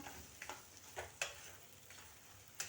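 Salted masala eggplant being stirred in a pan, a faint soft sizzle with a few scattered scraping taps of the spoon at irregular intervals.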